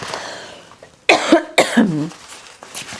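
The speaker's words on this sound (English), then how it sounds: "Got a cough too." Two harsh, chesty coughs close to the microphone, one right after the other, with quiet room noise before and after.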